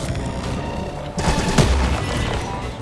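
Mines exploding in the futuristic racing game Wipeout Omega Collection, a sudden loud burst of booming blasts partway through, rumbling over steady background game noise.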